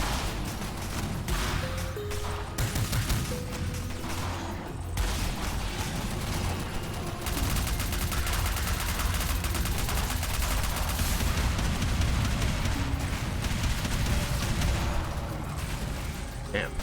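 Sustained gunfire in a video game roars as a near-continuous wall of loud shots with crashing impacts, mixed with voices throughout.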